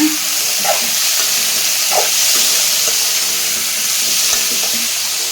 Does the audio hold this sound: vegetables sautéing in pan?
yes